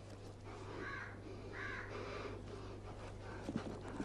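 A crow caws in three or four harsh, separate calls spread over a few seconds, fairly loud against a low steady hum and background noise.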